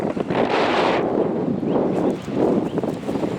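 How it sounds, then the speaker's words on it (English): Strong gusts of wind buffet the microphone in rushing surges, loud and close, rising and falling in waves. "Too windy sitting here."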